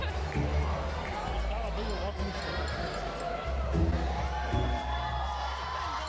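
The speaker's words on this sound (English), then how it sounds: "People screamed and clapped in support to the mysterious" A convention audience at UniCon in Las Vegas screams, whoops and claps in a dense, steady roar for a big plush fish being spun around, with crowd voices mixed throughout.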